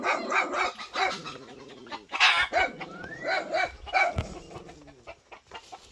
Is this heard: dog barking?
yes